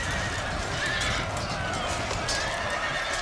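Horse neighing and whinnying amid dense battle noise in the Empire: Total War video game, a loud continuous wash of game sound with hoof clatter underneath.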